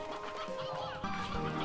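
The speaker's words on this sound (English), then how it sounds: "that is the angriest hen I've ever seen" A hen in the video game Slime Rancher 2 gives a short burst of agitated clucking, close and clear over a faint electronic game backdrop.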